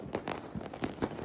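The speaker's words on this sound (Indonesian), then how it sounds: "Kembang api semua." Rapid pops and crackles of New Year's fireworks bursting at a distance, seen from a rooftop, several sharp bangs in quick succession over a low rumbling background.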